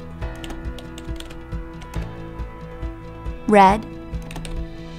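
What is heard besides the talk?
typing on a computer keyboard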